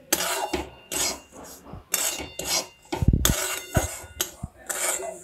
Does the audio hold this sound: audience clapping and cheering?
no